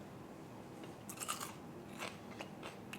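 A few crisp, crunchy bites of blanched celery, faint and close, with soft crackling between them over a quiet background.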